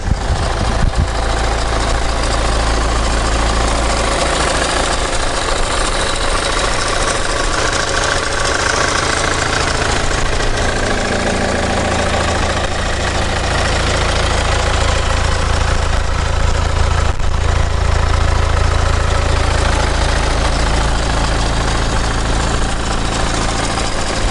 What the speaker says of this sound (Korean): 엔진 소리 한번 자세히 한번 들려드릴게요